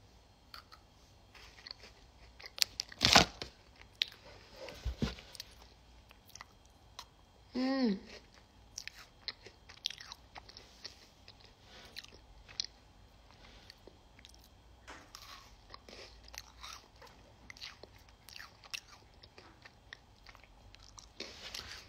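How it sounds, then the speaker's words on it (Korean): Dalgona candy being bitten and chewed close by, with a sharp crunch early on and scattered soft chewing and mouth sounds throughout, under occasional faint talk. "쩝쩝거리지 않으려고 노력을 하면서 좀 먹거든요"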